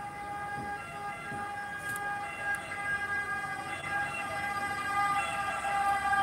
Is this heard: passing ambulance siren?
yes